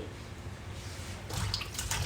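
Water is poured over bitter gourds in a kitchen for a second rinse, a soft running splash that grows louder and brighter near the end of the short stretch.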